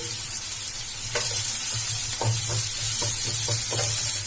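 Chopped onion and grated carrot sauté in a hot pan with a constant sizzle while a spoon stirs and scrapes in repeated close strokes, no voices over it.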